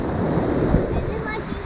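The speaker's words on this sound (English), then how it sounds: "I'd say it's a pretty remote beach." Surf washes onto a remote beach at Stumps Pass, a close, continuous rush of waves mixed with wind buffeting the microphone.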